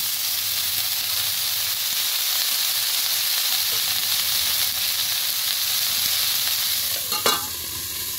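Spring onion and cauliflower fry in a pan, a constant close sizzle and hiss with occasional stirring, ending in a sharper clatter near the end, with no voices.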